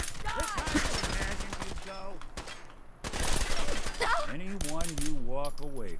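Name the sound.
gunfire from video game Fallout 4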